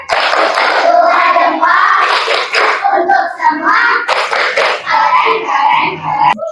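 A school class performs the 'tepuk keren' rhythmic clap, with quick patterned hand claps mixed with children's and a teacher's voices, loud and close throughout.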